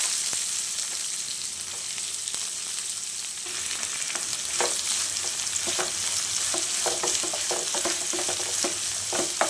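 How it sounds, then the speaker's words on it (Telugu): Sliced onions sizzle and fry in an oiled pan at breakfast preparation, a steady crackling hiss punctuated by scraping stirs and spatula taps. "అలాగే ఉల్లిపాయలు కూడా వేసుకుందాం."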